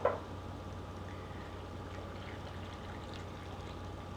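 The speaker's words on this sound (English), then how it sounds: "fill this up the rest of the way with some water, some boiling water" Boiling water pours steadily into a jar of salted lemons in a soft, continuous stream, with a faint low hum in the background and no voices.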